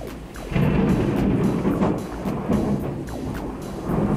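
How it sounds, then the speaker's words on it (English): Heavy rain pouring outside during a thunderstorm, a dense steady wash of noise with low rumbling swells and a few sharper cracks, loud and continuous with no talk. "It's pouring outside. It's thundering and lightning."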